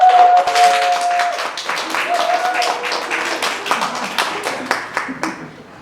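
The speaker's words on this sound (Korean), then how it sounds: "우리 뜨거운 박수로 축복하고 환영해 주시기를 바랍니다" A congregation at a Sunday church service bursts into warm applause, dense clapping that fades away toward the end, with a few voices murmuring underneath.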